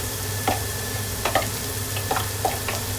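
Chopped onions fry in a pan while being cooked, giving a steady close sizzle with a few soft stirring clicks and scrapes spread through it, and no voices over the top.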